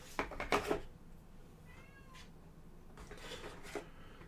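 A cat meows near a board game unboxing. Several short meows and cries come in bursts early on and again toward the end, over quiet room noise, with no talk.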